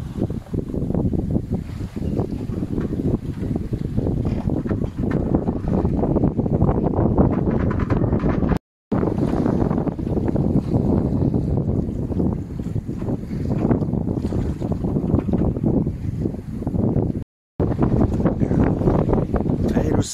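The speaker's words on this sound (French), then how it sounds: "une mer passablement agitée" Wind buffets the microphone aboard a boat on a fairly rough sea off the Costa Brava near Blanes, with a constant roar of gusts and water, loud and unbroken apart from two brief cuts.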